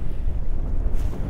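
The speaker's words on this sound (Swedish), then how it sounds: "Det blåser ju ut idag." Steady wind gusting over an open lake on a rocky shoreline, roaring into the microphone with low rumble and lapping water, continuous and close throughout.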